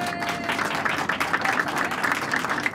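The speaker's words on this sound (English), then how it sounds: "Give a big round of applause." Applause from a crowd gathered to celebrate the 20th birthday of the Boeing 747 serving as Air Force One: dense, steady clapping that holds at an even, fairly loud level throughout, with no talking over it.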